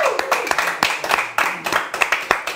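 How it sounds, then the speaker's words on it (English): An audience claps for students on a comedy talk show, a burst of applause with sharp individual hand claps that thins out over a couple of seconds, with a voice briefly heard. "Please, a round of applause for the students."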